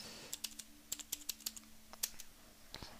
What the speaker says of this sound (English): Then you type in.